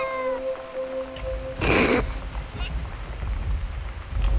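A cat meows with clear harmonic cries early on, followed by a burst of noise and then quieter rustling in an indoor game scene.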